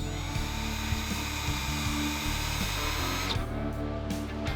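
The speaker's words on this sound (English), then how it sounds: "I got my number 6 self-centering drill bit." A small power drill with a Bosch number 6 self-centering drill bit whirs steadily at close range, its pitch shifting slightly as it bites, with a brief change near the end.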